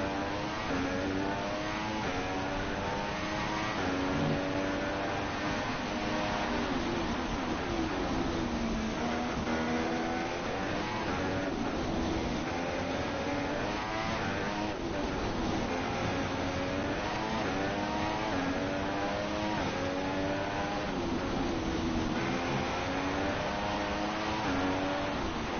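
F1 2016 racing game Formula 1 cars at the Mexico circuit, a continuous loud engine drone with rising and falling pitch sweeps as the cars accelerate and brake into turn one, steady throughout.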